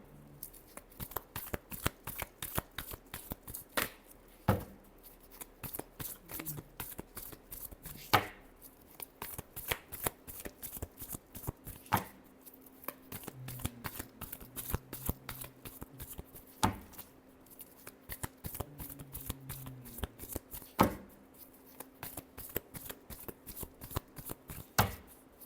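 Tarot cards are shuffled by hand in a steady stream of crisp, rapid riffling flutters and slaps that continue throughout, close and fairly quiet, with no talking.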